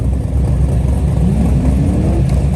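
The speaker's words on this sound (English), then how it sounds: "All the cars are about to go." Several cars, including a built Camaro SS, roll off together at a track day, a loud low engine rumble with a rising tone as one car accelerates up through the revs.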